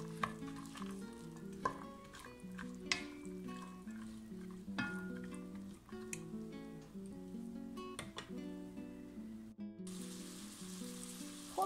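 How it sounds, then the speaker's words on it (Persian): Split peas sautéing in a cooking pot for a traditional Persian rice dish, with soft sizzling and repeated scraping stirs of a utensil against the pot, close and clear. "حدود 3 دقیقه من لپه باقالی ها رو داخل قابلمه تفت دادم"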